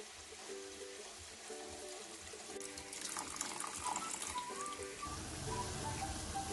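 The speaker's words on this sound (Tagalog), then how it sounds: "Dito naman guys sa pansit natin, maglalagay tayo ng tubig. Lagyan na lang natin ng sabaw." Hot broth pours into pancit noodles, first under faint rhythmic clinking, then swelling into a louder, steady splashing stream toward the end.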